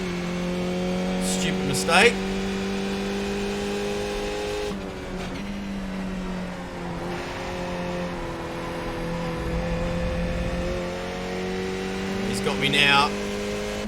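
A Skip Barber open-wheel race car in iRacing, running without a wing on a road course, drones with a steady engine note that dips and rises through downshifts and revs, loud and continuous, while someone talks over it.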